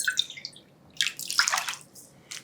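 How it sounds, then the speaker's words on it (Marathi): Half a cup of water poured into semolina batter for crisp rava appe: short, splashy bursts of pouring and dribbling, close by, with brief pauses between, no talking. "त्यामध्ये आणखी अर्धा कप पाणी घालते"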